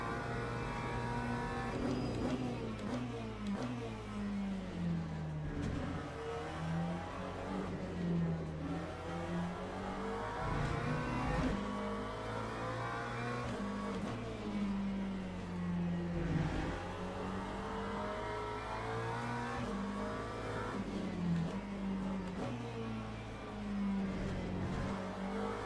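Race car engines roar continuously in Le Mans Ultimate while chasing a Porsche, a steady loud drone with rising and falling revs through gear changes, close and constant, with no talk.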